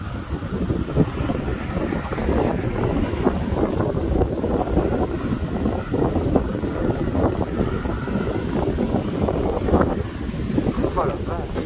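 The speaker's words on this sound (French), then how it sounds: "Ah, beaucoup de vent par contre qui arrive." Strong storm wind roars over the microphone during a supercell thunderstorm near Voiron, Isère, as a dense, continuous rushing buffet with gusty surges throughout and no clear breaks.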